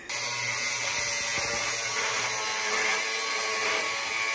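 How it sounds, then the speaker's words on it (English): An angle grinder running without its safety guard during a car build, a loud, continuous high-pitched whine and grinding roar that starts abruptly and holds steady throughout. "Whenever you're using the grinder without the safety guard,"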